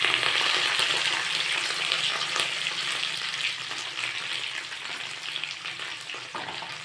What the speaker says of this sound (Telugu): కొంచెం ఆయిల్ తీసుకొని దీంట్లో ఉల్లిపాయ, పచ్చిమిర్చి, తాలింపు గింజలు వేసి వేయించుకోవాలి.